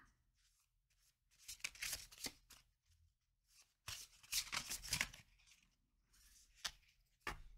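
Tarot cards being shuffled, handled and drawn close to the microphone, with quiet bursts of riffling and sliding in several separate flurries and soft pauses between them, no talking.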